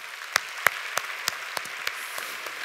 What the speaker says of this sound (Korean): 우리 큰 박수로 한번 격려하시겠습니다